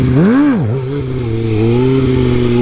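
A motorcycle engine revs at the wheelie balance point: close and loud, with a quick rise and dip in pitch, then a steady throbbing hold of the throttle.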